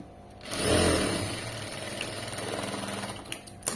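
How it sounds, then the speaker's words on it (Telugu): Pedal-operated sewing machine stitching slowly, a steady low mechanical whir with a soft rhythmic clatter that swells briefly near the start and then runs evenly, close and moderately quiet, with no talking. "నేను ఫాస్ట్ గా తొక్కట్లేదు మిషన్, ఫాస్ట్ గా తొక్కితే సౌండ్ ఎక్కువ వచ్చేస్తుంది."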